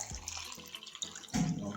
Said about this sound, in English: I'm gonna go ahead and pour some water in my blender